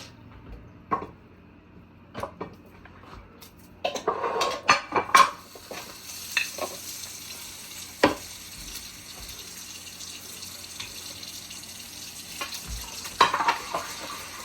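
A greasy frying pan used for homemade cheesesteak is scrubbed and scraped, with sporadic metallic clinks, scrapes and bursts of sizzle and water, quiet stretches between the louder clatters.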